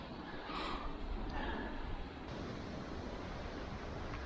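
Whitecap waves washing onto a Great Lakes shoreline, a steady far-off surf wash under blustery wind, with a couple of slightly louder swells early on and no talking.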